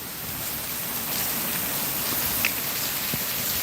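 Rain falls steadily during a thunderstorm, a dense, continuous close hiss that builds slightly after the first second, with a few sharper drop hits and no voices.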